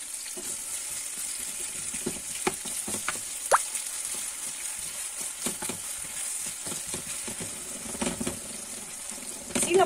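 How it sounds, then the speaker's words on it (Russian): Thinly sliced onions frying in oil in a pan, a continuous close sizzle with faint stirring scrapes and soft clicks, no talking. "Пока жарится лук"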